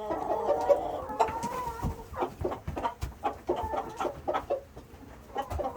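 A backyard rooster gives a run of short, rhythmic clucks after finding something, close and fairly quiet, repeating in quick uneven pulses without any talk.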